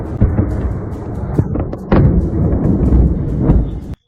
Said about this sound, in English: There's an explosion. Do you hear it?